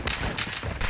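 Rapid bursts of gunfire from a shooting video game, loud and close, with dense overlapping shots across about a second.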